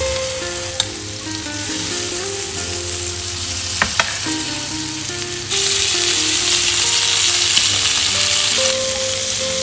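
Thick chicken pieces fry in a pan over a medium-low flame, giving a loud, continuous close sizzle with occasional stirring clinks and a brief swell in intensity partway through.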